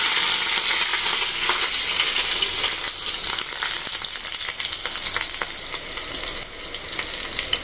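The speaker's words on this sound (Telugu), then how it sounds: "ఆయిల్ వేడైంది, కొన్ని ఆవాలు వేసిన, అవి చిట్టపట్ట అంటున్నాయి." Mustard seeds and chopped green chillies frying in hot oil, a loud, continuous sizzle with scattered popping crackles that eases slightly toward the end, with no voices.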